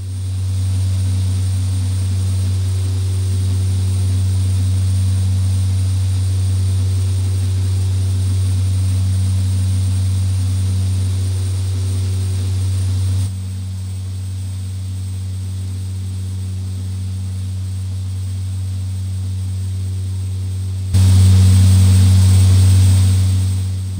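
The engines of a Carenado E200 King Air twin turboprop drone steadily through a landing in a flight simulator game at LFLJ. The loud, continuous hum changes level abruptly twice, and there is no talking.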